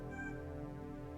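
A cat meows in a horror-style video game, a short tonal call in the first half-second over a steady, droning game soundtrack that continues underneath.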